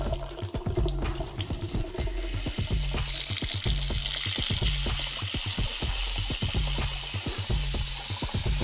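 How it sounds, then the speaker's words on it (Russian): A newly installed, inexpensive faucet over a bathroom sink sputters and spits as trapped air escapes the pipes, a close, rhythmic series of hissing bursts and splashes with no voices. "Выходит воздух из системы."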